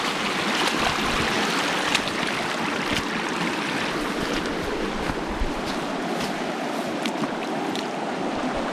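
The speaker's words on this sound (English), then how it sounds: "You see how fast the water flow is? That's a really strong current" A strong, fast river current in the New England district near Glen Innes, NSW, Australia, rushing continuously as a loud, steady broadband roar up close, with no talking.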